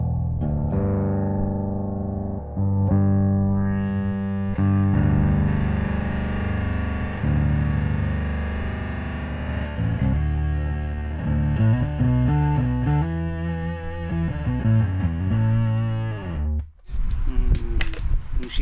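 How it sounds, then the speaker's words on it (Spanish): An old Electro-Harmonix synthesizer pedal used as a distortion on an instrument, producing a loud, sustained buzzing synth tone with shifting harmonic notes that wobble and step through a phrase before cutting off abruptly, followed by a few scratchy noises. "Y también uso un synthesizer, influenciado por estos muchachitos también, que lo uso a manera de distorsión."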